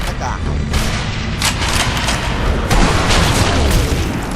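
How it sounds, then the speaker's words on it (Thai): Explosions and gunfire rumble through a zombie shooter set in Nazi-era Sniper Elite Zombie Army, a dense, loud battle bed of booms and shots running continuously. "อุ้ยโดนระเบิด"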